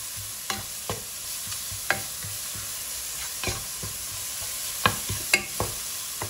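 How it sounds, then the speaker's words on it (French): Spices being stirred through a pot of chicken biryani, with soft scraping strokes and sharp knocks of the spoon against the pot at irregular intervals over a faint constant sizzle, with no speech. "Je mélange bien l'ensemble et c'est parti pour encore quelques minutes"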